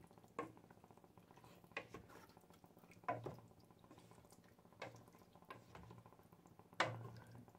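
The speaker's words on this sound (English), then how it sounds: "Give it a bit of a stir." Tomato sauce in a pan being stirred slowly with a spoon, with quiet wet squelches and a soft knock against the pan every second or two, close and faint.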